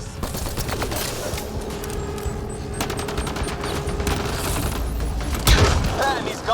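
Sustained rapid gunfire from a firefight in the video game Mass Effect: Andromeda, loud dense bursts running continuously with a heavier blast near the end.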